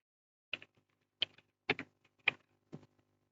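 Five separate clacks on a computer keyboard, each a quick cluster of key taps spaced about half a second apart, close and crisp in an otherwise quiet room.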